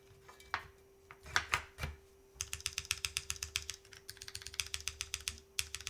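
Several isolated key presses on a Kohaku mechanical keyboard build, then a burst of fast, clacky typing, close and crisp, over a faint steady hum.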